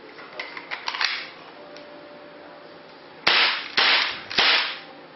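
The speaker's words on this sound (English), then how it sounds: "I'm going to fire a couple of drive shots for you, and you'll see how loud it is indoors." An Umarex H&K USP CO2 non-blowback air pistol fired indoors: three loud, sharp cracks in quick succession, each followed by a brief room echo, after a few light clicks of handling.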